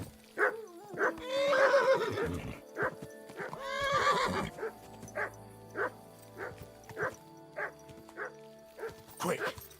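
A horse in the video game Kingdom Come: Deliverance 2 gives two loud drawn-out whinnies, followed by a run of short, evenly spaced snorting or clopping bursts close by.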